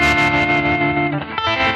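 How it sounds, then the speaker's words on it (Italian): Electric guitar played through a Line 6 tremolo effect on a pedalboard, sustained chords pulsing with shimmering modulation, loud and close, briefly dipping before ringing again. "ho scelto sul suono numero 2 di richiamare un tremolo dalla line 6"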